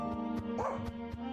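Small dog yipping and barking in a medieval crow adventure game, a few quick barks over steady game music.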